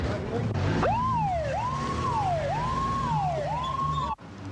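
A wailing ambulance siren rises and falls in repeated sweeps, loud and close, over traffic rumble before cutting off abruptly, during a Christchurch earthquake emergency.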